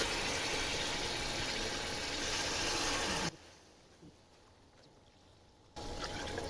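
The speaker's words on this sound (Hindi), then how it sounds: "अब हम इसके अंदर डाल देंगे पानी" Water poured into a pot of chana pulao, a steady rushing pour that stops abruptly midway, leaving a quieter stretch before the pouring resumes.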